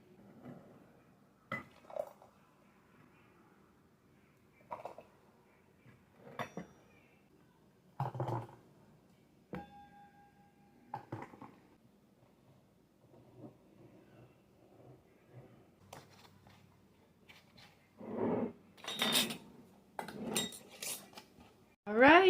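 Glass canning jars handled and filled during home food preservation, with sporadic close clinks, clatter of pots and utensils, and scattered knocks building louder toward the end; faint talk now and then.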